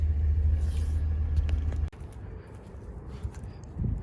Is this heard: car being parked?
yes